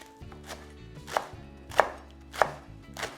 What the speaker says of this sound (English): just roll them like this, and then just chop them up